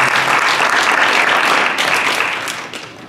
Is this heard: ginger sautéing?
no